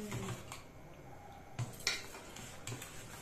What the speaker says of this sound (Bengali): এটা খুব সুন্দর করে এখন গুলিয়ে নিচ্ছে